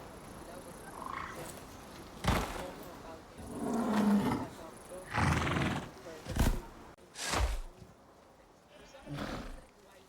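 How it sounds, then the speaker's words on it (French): Deep roars from a bear in the survival video game Icarus, several loud broadband bursts spread across ten seconds with quieter game ambience in between and no speech. "Non, j'entends un ours."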